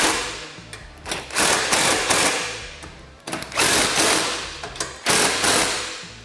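Bolts on a cargo rack being fully tightened on a Polaris RZR PRO XP, with loud bursts of rapid, buzzing power-tool drive in several runs and brief pauses between them, close up and alone.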